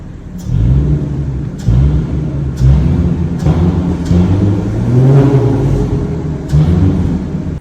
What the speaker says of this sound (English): I really want to hear the supercharger whine